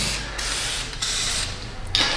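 A torque wrench clicks and ratchets in quick bursts on a Subaru's rusted subframe bolts, close and loud with short pauses between strokes.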